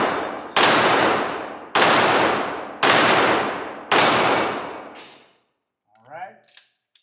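Four loud, close shots from a Glock 34 Gen 4 pistol at a shooting range, spaced about a second apart, each with a long ringing decay, then quieter handling noises.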